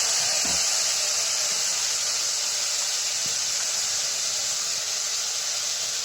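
Water poured into a hot pan of rui fish curry with tomato and beans sets off a loud, steady hiss of steam and sizzling that holds constant for several seconds, close up and without talking.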